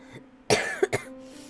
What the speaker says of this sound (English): I had to edit so much of my coughing out because I kept coughing